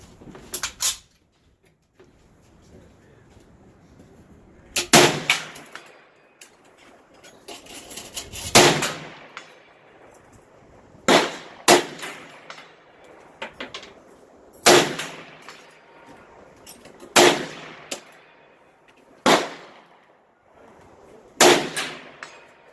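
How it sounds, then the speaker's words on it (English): Chinese SKS rifle fired outdoors in cold wind, about nine sharp loud shots spaced a few seconds apart, each with a short echoing tail, no talking between them. "That thing shoots good. I didn't miss any one of those."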